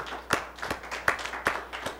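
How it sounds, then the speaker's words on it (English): A few sparse, faint claps for the Barron Collier High School team at an academic quiz tournament, five or so separate handclaps spaced about half a second apart over quiet room noise. "Let's give them a round of applause"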